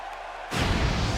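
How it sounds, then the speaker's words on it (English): A large WWE 2K17 arena crowd at Money in the Bank erupts into a loud, sustained roar of cheering after a quieter opening moment. "Crowd on their feet, excited for this one."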